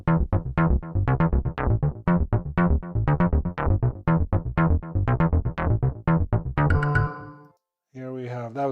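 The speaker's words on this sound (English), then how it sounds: "that was a bass sound" A synth bass patch from Logic Pro's Sculpture plays a fast, rhythmic run of plucky harmonic notes, loud and steady, then fades into a short gap before a sustained held note.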